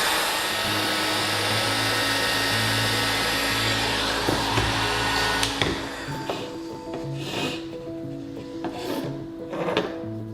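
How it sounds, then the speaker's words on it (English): A hot air gun blows a steady loud hiss close by as it heats vinyl wrap film on a BMW 1 Series M Sport F20, then cuts off partway, leaving faint handling and rubbing sounds. "And if you don't have a hot air gun, then actually a hairdryer works really well."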